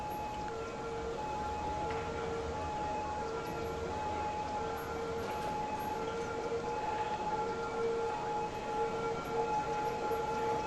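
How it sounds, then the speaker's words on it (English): A steady, distant wailing ambulance siren in the city-building game Cities: Skylines drones on under a constant low rumble of traffic, fairly quiet throughout. "The ambulance is doing their thing over there."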